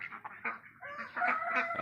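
A young White Leghorn rooster with a serrated comb, about five months old, crows in a few strained, broken bursts that rise and strengthen toward the end, close by, with no talking.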